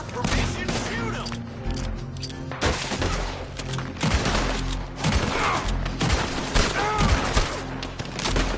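Gunfire in Red Dead Redemption 2: dense volleys of rifle and pistol shots crack out in rapid bursts throughout, with game voices and background score underneath.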